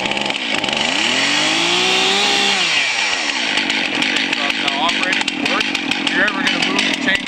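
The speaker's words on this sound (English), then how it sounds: "we're just about ready to start the chainsaw" A chainsaw engine revs up with rising pitch, then runs loudly and steadily with choppy bursts, close by.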